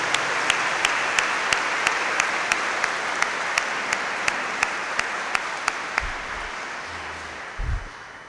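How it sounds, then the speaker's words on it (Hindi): A congregation at a Chrism Mass in a Lahore cathedral claps steadily in a broad wash of applause, with sharp regular ticks running through it and a few low thumps near the end. "उनकी तमाम खिदमात को हम सारे मिलकर ज़ोरदार तालियों के साथ अप्रिशिएट भी करते हैं"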